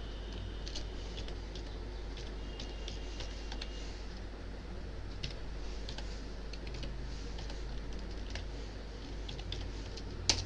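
Steady typing on a computer keyboard during data entry in an Excel spreadsheet: quick, light clicks in irregular bursts over a constant low hum, with no talking.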